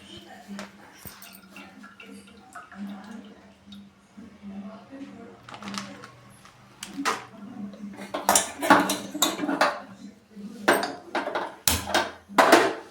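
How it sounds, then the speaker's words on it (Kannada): Metal pan set down and handled in a home kitchen while making Diwali kajjaya, with scattered clanks and scrapes of pans and utensils amid intermittent speech. "ಇದನ್ನು ಬಾಣಲಿ ಇಟ್ಕೊಂಡು ಎಣ್ಣೆ ಹಾಕೋತಾ ಇದ್ದೀನಿ"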